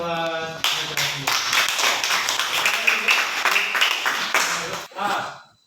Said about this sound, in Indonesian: tepuk tangan buat presentasi